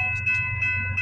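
A CPKC freight train passes at night at Bronte Street, Milepost 33 on the Galt Subdivision, a steady low rumble under sustained bright horn-like tones, close and fairly loud.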